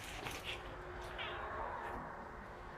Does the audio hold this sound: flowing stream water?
no